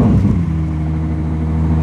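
A Ferrari 296 GTB hybrid sports car's engine runs nearby, a loud, steady low rumbling hum after a brief rise at the start, with no voices over it.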